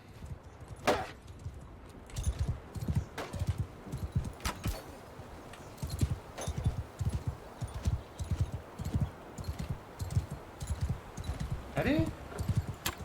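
Horse hooves clip-clop steadily in Mount and Blade II: Bannerlord, a close rhythmic trot of hoofbeats throughout with someone talking over it.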